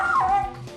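A poodle gives a short, high yelping bark that slides into a whining, whimpering tone, close by and fairly loud, with no talk over it.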